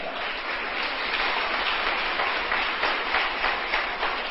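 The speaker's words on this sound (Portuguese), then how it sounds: "Você pode aplaudir o Senhor?" A church congregation claps together in a steady, dense wash of applause that carries evenly at full strength for the whole stretch, with no voices rising above it.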